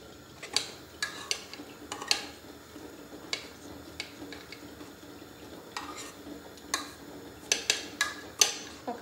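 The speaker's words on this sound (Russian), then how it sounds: "нужно прям мять и мять" Food being mashed in a pot, with scattered sharp clinks and knocks of the utensil against the pot, irregular and close, over a quiet background.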